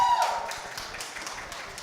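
Applause from the audience at a press meet for a streaming drama series cast and crew, a dense burst of clapping that stays steady for under two seconds.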